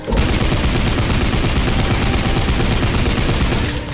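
Sustained rapid gunfire from guns in the video game Blades of Time, a dense unbroken automatic barrage, loud and close, running for several seconds without talk.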